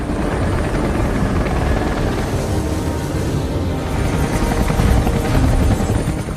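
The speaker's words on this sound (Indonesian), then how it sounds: "Setelah helikopter tersebut mendarat" A loud, steady helicopter roar with deep rotor thumping, close by and continuous, rising slightly toward the end with no voices.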